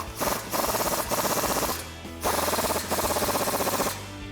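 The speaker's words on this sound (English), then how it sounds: "take your 19mm socket and tighten them down" A ratchet clicks in rapid bursts while a 19mm socket tightens control arm bolts, three quick ratcheting runs separated by short pauses, close and clear.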